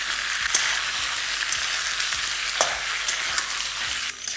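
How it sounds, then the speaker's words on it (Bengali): Potatoes frying in oil over a medium to high flame, a continuous bright sizzle with occasional stirring knocks and scrapes of a utensil against the pan, close and steady. "এই সময় ফ্লেমটা আপনারা মিডিয়াম টু হাই রাখবেন আর ততক্ষণ ভেজে নেবেন যতক্ষণে আলুর মধ্যে একটু কালার চলে আসছে"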